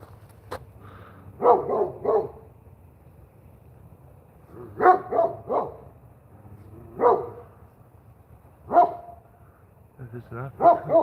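A dog barks in several short bursts at close range, with pauses between volleys, inside a home set up for rope walking.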